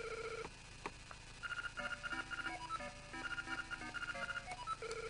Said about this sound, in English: we've just made a long-distance call on this fella's phone